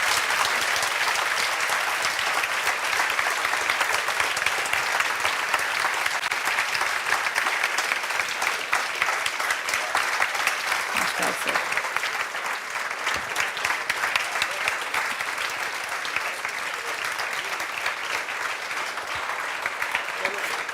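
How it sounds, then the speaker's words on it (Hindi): A class audience claps loudly to welcome a guest speaker, sustained dense applause from a room full of people that carries on for about twenty seconds, with faint voices underneath. "जोरदार तालियों से स्वागत"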